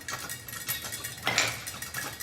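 Popcorn pops in a pot on the stove at close range, with scattered sharp clicks and one louder burst of popping over a low background hum.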